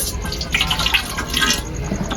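Water splashes and trickles into a cooking pot for boiling taro stems, a close, continuous pour with small drips and burbles, no talking.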